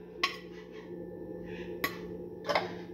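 Utensils scrape and clink against a plate and pot while food is served: three distinct metallic taps with soft scraping between, close and fairly quiet.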